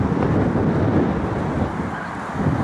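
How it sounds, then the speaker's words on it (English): Strong wind buffets a microphone outdoors at a park, a steady loud rumbling roar with gusty swells throughout and no voices. "it's very windy, guys, so I'm sorry. I'm trying to block out as much of the wind as I can"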